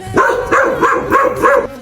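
A fierce neighbourhood dog barking loudly and close, four evenly spaced deep barks in quick succession with no other sound around them.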